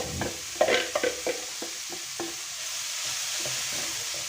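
A soft, steady sizzle of onions frying in a pan, with a few light scrapes of a spoon early on, no voices.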